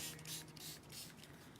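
Quiet hissing bursts from a pink spray paint can, several short sprays pulsing in quick succession, faint and close.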